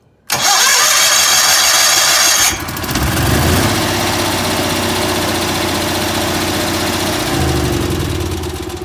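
A recently serviced propane-fuelled engine fitted with new spark plugs cranks and fires almost at once, roaring loudly at first. It then settles into a steady, close mid-pitched running idle that continues to the end.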